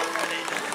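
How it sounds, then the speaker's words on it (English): Audience applause at a sea lion show at Blackpool Zoo, a short dense burst of clapping from a crowd, steady and fairly loud. "let's give her a big round of applause, guys"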